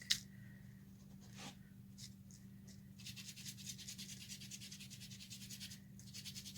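Oxide ink rubbed into a paper junk journal page, a faint, fast back-and-forth scrubbing that grows steadier in the second half over a low electrical hum, close and quiet with no talking.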